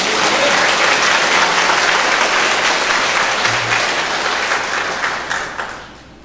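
Church congregation at a choir dedication worship service gives warm, loud applause, a dense sustained wash of many hands that holds steady, then fades out toward the end.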